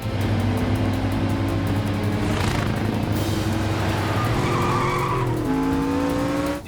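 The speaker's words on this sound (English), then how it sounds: "slams on his brakes, and just throws a 180 right in front of the semi" A stunt car slams its brakes in front of a semi truck at about 45 mph and whips into a 180-degree spin, tires squealing and skidding loudly and continuously over a roaring engine, with the pitch rising near the end.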